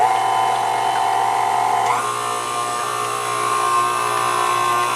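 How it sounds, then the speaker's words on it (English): An electric mixer whirs steadily through chocolate cheesecake batter made with chocolate syrup, a continuous close, loud motor hum with a slight pitch shift partway through. "now mix it up till it's well blended"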